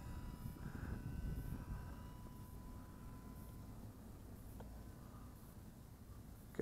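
A SeaEagle three-channel stabilized RC trainer plane flies with a faint, distant engine buzz that drifts and fades against outdoor background noise.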